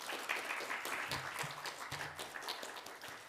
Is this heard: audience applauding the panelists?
yes